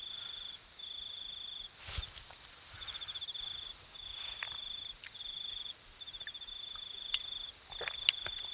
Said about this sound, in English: I got a cricket buzzing away right here somewhere.